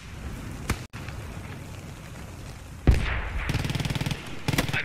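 Machine gun fire in the video game Post Scriptum: a single distant shot early, then a heavy blast followed by a sustained rattling burst of rapid automatic fire, a pause, and another short burst.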